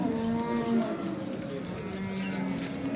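A fat dairy cow of good breed, giving about twelve litres of milk, moos long and loud at an Osh livestock market, drawn-out lowing calls with faint crowd murmur behind.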